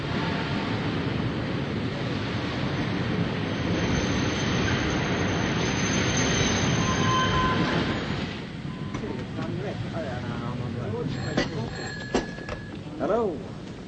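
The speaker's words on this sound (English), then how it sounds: "Train's coming in now." A train arriving at a station rumbles steadily for several seconds, then fades as voices begin talking, with a few faint bell-like tones ringing out near the end.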